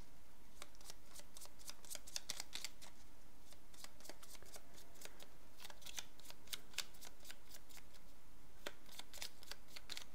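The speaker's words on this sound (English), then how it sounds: "We need to shuffle that deck because we didn't shuffle it after the last turn." A deck of cards for the board game Spires End is shuffled with many quick, crisp riffles and flutters spread over the whole stretch, close and fairly quiet, with no talking.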